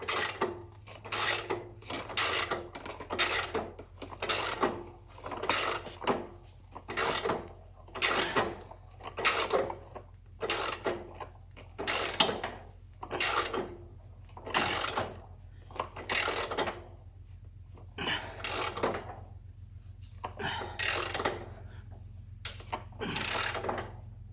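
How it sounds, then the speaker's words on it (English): A ratchet wrench is cranked hard in a long series of rhythmic strokes, each a gritty clicking burst followed by a short pause, close and steady under a low background hum. "Take our ratchet, and this is going to apply a whole bunch of force on there."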